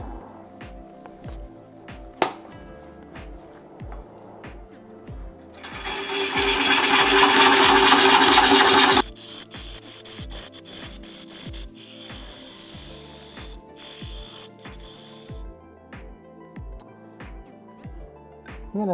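Mimosa wood on a lathe: a spinning bowl blank ticks evenly throughout, and a gouge cutting its corner gives a loud, rough shearing rasp for about three seconds in the middle.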